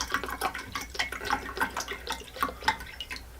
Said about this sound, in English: Fill this jar all the way up.